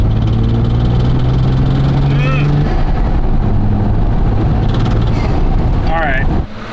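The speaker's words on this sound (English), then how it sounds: "It's like a really nasty creaking." An aging exotic car's engine idles low and rough, a steady rumble with heavy vibration and nasty creaking, while someone talks over it.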